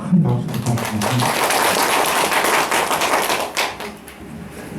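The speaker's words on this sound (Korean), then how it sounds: "큰 박수 부탁드립니다" An audience at a neighbourhood residents' committee meeting in Korea gives a round of applause, a dense, continuous patter of clapping mixed with some voices, easing off toward the end.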